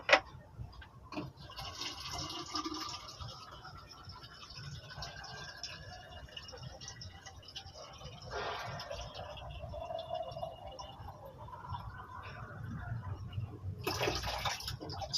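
Water pours and splashes into a container in a quiet indoor space, a soft uneven running sound with occasional clinks, and faint talk now and then.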